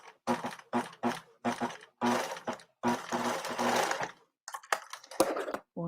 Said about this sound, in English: do a little stitch right there just to close that corner